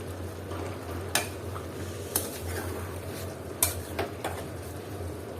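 A shrimp and mixed vegetable curry being stirred in a pan over low heat, a soft background simmer broken by several sharp, isolated clinks of a utensil against the metal.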